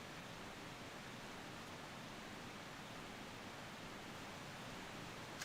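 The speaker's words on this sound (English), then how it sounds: "There's another waterfall down from there." Waterfall in the video game Tomb Raider Remastered III, a steady, even hiss of rushing water that holds at a very low level throughout with no other sounds.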